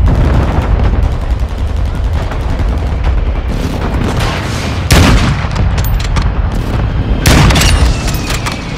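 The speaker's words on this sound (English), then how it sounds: "Friendly mortar strike inbound" Mortar strike explosions in Call of Duty Modern Warfare, loud booming blasts landing in a dense barrage with crackling gunfire throughout, heavy impacts near the five- and seven-second marks.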